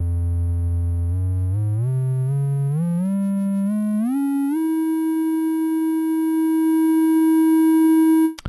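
A U-he Bazille synthesizer triangle-wave LFO at audio rate produces a bright buzzy tone that climbs in quick pitch steps, then holds one steady sustained note before cutting off.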